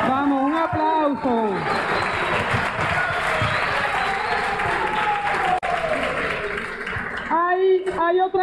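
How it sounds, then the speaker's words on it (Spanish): An audience claps in sustained applause at a national training gathering, filling several seconds, with voices talking over the start and end. "vamos, un aplauso."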